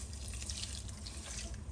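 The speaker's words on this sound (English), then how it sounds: "2 cups of water going in." Water pours steadily into a measuring cup while a raw vegan bread is being made, a continuous close splashing flow with no pauses.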